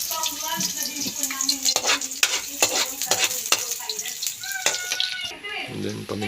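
Garlic and onion sauté in hot cooking oil in a pan for a simple vegetable dish. A steady sizzle runs under sharp clatters of a utensil stirring against the pan, with a brief change in tone near the end.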